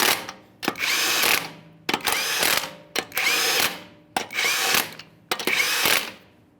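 A power tool runs 21mm lug nuts onto a Ford F-150 wheel in five separate close, loud bursts of whirring and rattling, each roughly a second long with short pauses between.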